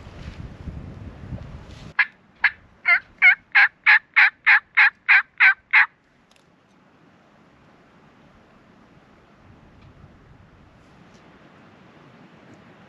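Wild turkey toms gobble in the woods of a hunting property: a single run of about ten evenly spaced, rattling gobble notes, fairly loud and distinct, followed by quiet outdoor ambience.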